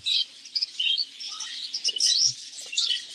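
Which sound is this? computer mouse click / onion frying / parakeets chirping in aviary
parakeets chirping in aviary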